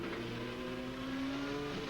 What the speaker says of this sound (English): And right up alongside him, Smith passes. Mike Smith in the BMW.